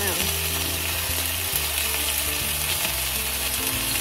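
Dinner frying on a small camp cooker, a steady close sizzle that runs continuously, with a few faint stirring knocks beneath it.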